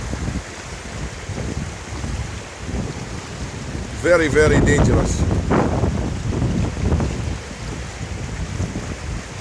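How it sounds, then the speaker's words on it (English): Fast-flowing floodwater through a garden in Monifieth rushes as a steady, broad roar mixed with wind buffeting the microphone, while someone speaks over it midway. "As you can see how fast the water's flowing."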